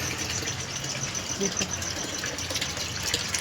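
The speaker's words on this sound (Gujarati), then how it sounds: "ચકલીનો નળ પાણી આવેલું છે હવે પાણી ભરાશે" Water gushing from a household tap into containers, a steady close rushing flow with a faint engine-like hum beneath it, moderately quiet and continuous.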